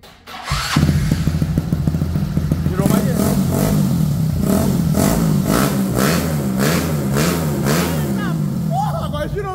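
A motorcycle with a 190cc engine and a PCX connecting rod revs hard to high RPM. The loud, close engine roar rises and falls repeatedly, with voices talking over it.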